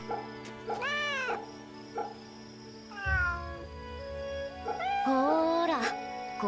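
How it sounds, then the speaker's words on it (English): A cat meows repeatedly while being petted in the Fate/Samurai video game, several drawn-out rising and falling meows spread over a few seconds, fairly close and clear above a quiet background hum. "Cat, pet cat."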